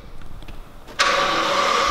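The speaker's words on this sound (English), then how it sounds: "You guys get a cold start on a 2012 Rolls-Royce Ghost." A 2012 Rolls-Royce Ghost engine cold-starts about halfway through, a sudden onset after near silence that settles into a steady, fairly loud hum with no talking.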